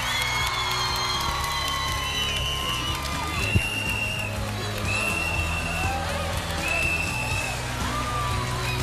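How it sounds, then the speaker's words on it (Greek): An awards-show audience at the 2007 Mad Video Music Awards cheers and whoops for Nicky Hilton's entrance, a steady crowd roar with bright whistles rising over it. "Το χειροκρότημά σας για την αδερφή της Paris"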